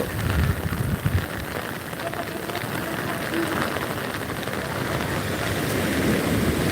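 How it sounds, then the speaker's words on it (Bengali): Heavy rain pours down at Digha beach by the sea, a dense, continuous hiss of drops on the surface with a rough, rumbling wash underneath that stays loud throughout. "এক ধারে প্রচুর পরিমাণ বৃষ্টি হচ্ছে আর এক সাইডে সমুদ্রের জলের জলের উৎপাত"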